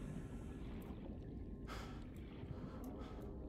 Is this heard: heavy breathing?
yes